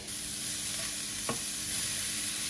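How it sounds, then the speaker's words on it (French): Steady sizzle of finely chopped carrots, onions and mushrooms frying over high heat in a hot pan, continuous and close, with a brief stir or scrape partway through. "à feu fort, je vais faire revenir mes carottes, mes oignons et mes champignons coupés finement"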